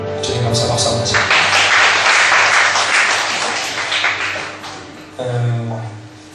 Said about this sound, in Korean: 주님 감사 박수 한번 하시죠